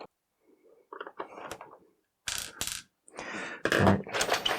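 The plastic case of an F09 Famiclone keyboard gives a series of scattered clicks, creaks and sharper cracking snaps as it is pried apart, close by, with pauses of silence between them.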